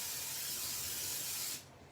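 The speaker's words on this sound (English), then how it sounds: "Let me spray this pan here." Cooking spray hisses steadily from an aerosol can onto a baking pan for monkey bread, one close, continuous burst lasting about a second and a half before cutting off, followed by a faint click.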